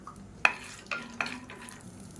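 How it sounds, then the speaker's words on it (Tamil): Half a cup of peanuts roasting in hot oil in a pan, quiet sizzling with three or four distinct stirring scrapes and knocks spaced through it, close and faint, and nobody speaking. "1/2 கப் அளவுக்கு வேர்க்கடலை சேர்த்து வறுத்துக்கலாம்"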